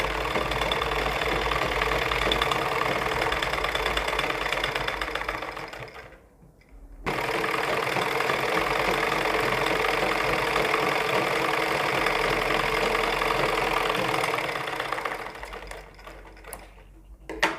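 A sewing machine stitches a seam onto green fabric for a ladies' suit sleeve design, giving a steady, close mechanical whir that pauses briefly partway through before running on again.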